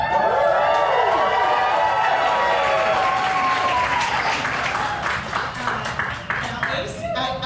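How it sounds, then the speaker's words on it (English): A live audience at an Ignite Denver speaker event cheers and applauds loudly and steadily for the first speaker, with dense clapping and whoops that thin slightly toward the end. "you have to cheer extremely loudly and enthusiastically"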